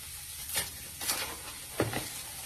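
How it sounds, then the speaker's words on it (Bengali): Potatoes frying in a pan for aloo poriyal, giving a soft, faint sizzle broken by three brief scraping bursts of stirring. "আলুটা যে ভাজা হচ্ছে তাকে আলাদাই সেন্ট ছাড়ছে"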